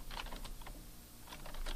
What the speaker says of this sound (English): I'll type the copy Best Ice Cream in Boston.